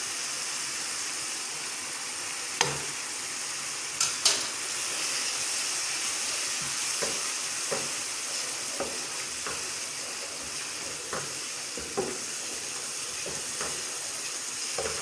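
Whole masoor lentil curry base sizzling in a pan as a spoon stirs it, a constant close hiss punctuated by scattered scraping knocks, with no talking.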